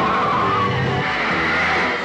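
A car's tires squeal loudly in a long continuous skid as it brakes hard to a stop, with the engine rumbling underneath and the screech sliding in pitch.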